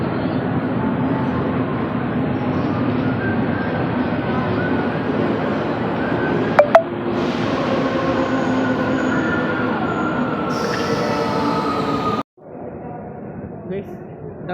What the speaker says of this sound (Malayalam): ഇതാണ് മെട്രോ സ്റ്റേഷൻ